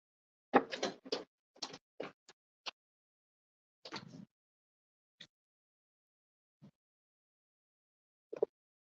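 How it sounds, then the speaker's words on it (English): A bedroom door being closed at home, heard as a cluster of close wooden knocks, bumps and latch clicks in the first few seconds, then a few isolated quieter taps and a final click in an otherwise silent room. "Give me 1 minute to close my bedroom door."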